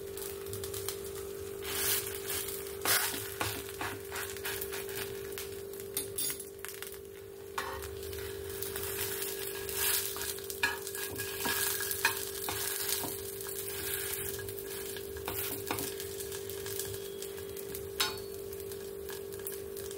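Patishapta pitha, a filled Bengali crepe, fries in a pan with a steady, close sizzle throughout, broken by scattered scraping and clicking of a utensil as it is turned.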